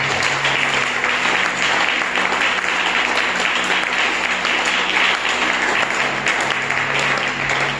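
A church congregation claps and acclaims together, a loud sustained wash of applause filling the room for several seconds without a break.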